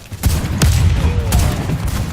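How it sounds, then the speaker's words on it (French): Grenade explosions and bursts of gunfire in the shooter video game Warface, loud and heavy, with several sharp blasts over a continuous rumbling roar of battle. "Je viens de me prendre 2 grenades sur la gueule"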